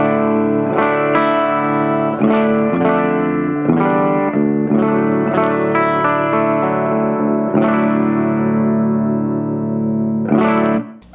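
A clean-toned electric guitar with very hot pickups, through a Monoprice Stage Right 15 tube amplifier, strums sustained, ringing chords close and loud for about ten seconds, ending with a sharp final strum.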